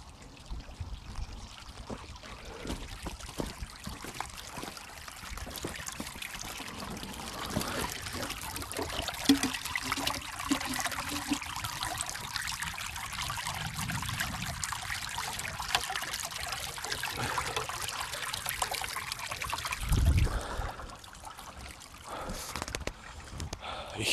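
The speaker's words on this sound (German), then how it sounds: "Hier haben wir ein fließendes Gewässer." Water trickles and splashes in a small flowing forest stream while water is being collected, a continuous close babble with occasional louder splashes and gurgles throughout.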